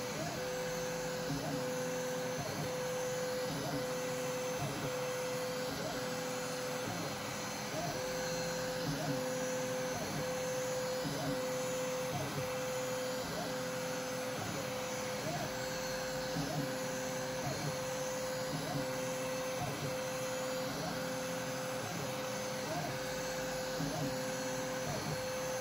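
A Galileo 2 3D printer extruder draws plastic filament off its spool with a steady mechanical hum and evenly spaced periodic clicks, continuous and fairly quiet at close range, with no talking.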